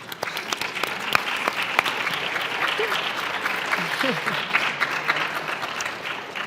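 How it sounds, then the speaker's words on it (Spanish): Audience applause at a Spanish youth civil-society dialogue event, steady dense clapping from a crowd with a few sharper nearby claps and faint voices mixed in, continuing evenly throughout. "Un aplauso por vosotros"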